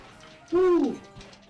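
A single deep, loud owl hoot rises and falls close by for about half a second, followed by faint background noise with no voices.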